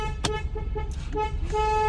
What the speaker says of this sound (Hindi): हॉर्न देते रहे